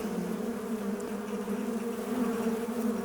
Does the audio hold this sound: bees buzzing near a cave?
yes